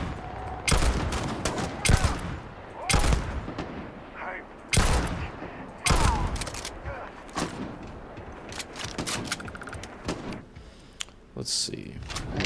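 Sniper rifle gunfire in Starfield, heard as a string of loud, sharp single shots spaced a second or two apart, each with a short echoing tail, set against a busy game background.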